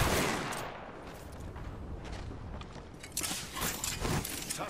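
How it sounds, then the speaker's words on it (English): Rapid gunfire and bursts of automatic fire from a video game, dense and continuous, with the shots growing louder and more forceful toward the end. "Firing on subjects."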